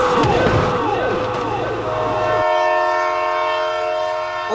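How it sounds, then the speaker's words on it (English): A train passes in the BeamNG.drive video game, its loud horn sounding as curving Doppler-shifted tones in the first half before the sound steps down to a steady sustained tone, with no talk over it. "Oh my god, train!"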